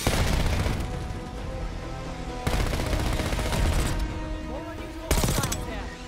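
Gunfire in the first-person shooter Call of Duty Black Ops 6, sustained bursts of rapid automatic shots in three loud volleys, each fading slightly before the next sharp barrage begins.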